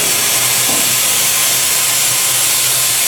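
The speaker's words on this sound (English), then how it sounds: "Release my vacuum." Air hisses steadily and loudly as the vacuum is released from a Harvest Right home freeze dryer used to seal mason jars, a continuous broadband rush with no pauses.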